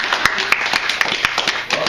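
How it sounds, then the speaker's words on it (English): A small audience applauds a newly introduced young vegan at a World Vegan Day youth event, the scattered claps steady and fairly close for a couple of seconds. "I think we should give her a round of applause."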